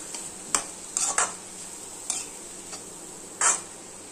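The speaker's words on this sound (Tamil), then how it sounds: "போட்டு இந்த சூப்லேயே நல்லா மிக்ஸ் பண்ணிக்கோங்க" A spoon stirs grated coconut into a kalyana veetu-style vegetable poriyal in a pan with the gas turned off. About six quiet scrapes and taps come at irregular intervals over a soft background, with no sizzle and no talking.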